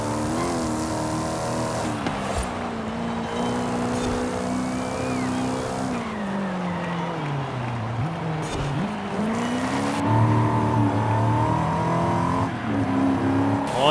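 In Forza Horizon 5, a Bentley Flying Spur or Nissan 400Z Nismo engine revs up and down repeatedly, loud and close, with rising and falling pitch sweeps and a brief tire squeal, and no voices.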